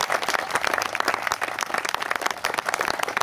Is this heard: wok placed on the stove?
no